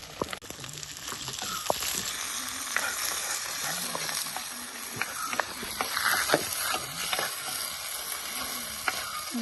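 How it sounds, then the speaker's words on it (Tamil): Small onions sizzle steadily in hot oil in a clay pot, with scraping stirs and small pops throughout. "இப்போ நல்லா அதை தாளிக்க போட்டுட்டு கரைஞ்சி"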